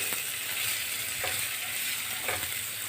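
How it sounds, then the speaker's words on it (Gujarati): Ginger-chili-garlic paste and chopped onion sizzle steadily in a little hot oil over a medium flame for a poha snack, with a couple of soft stirring scrapes and no voices. "તો આ બધી વસ્તુને આપણે સૌથી પહેલાં સોતે કરી લઈશું"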